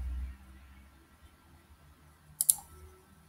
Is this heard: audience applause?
no